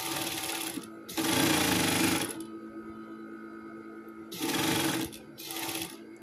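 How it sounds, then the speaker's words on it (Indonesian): A sewing machine runs gathering stitches on fabric in bursts, a steady mechanical whir swelling louder for about a second at a time, with quieter running between three separate bursts, close and alone. "Ini dikasih jahitan supaya nanti kita tinggal ngikutin jahitan kerutan ya."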